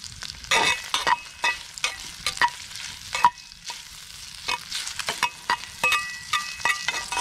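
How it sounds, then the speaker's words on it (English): Spam sizzles steadily in a pan over a campfire while a utensil stirs and scrapes, with occasional light clinks against the metal. "Listen to the sizzle."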